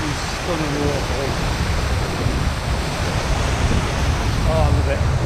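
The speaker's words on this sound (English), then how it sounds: "Absolutely stunning waterfall." A waterfall on a windy mountain hillside pours as a loud, steady broadband rush close by, with wind buffeting mixed in and brief voices faintly audible beneath the roar.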